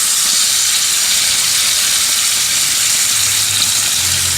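Costco prime tri-tip steak and shrimp sizzle on a hot grill, a loud, dense, continuous hiss close by with no talking.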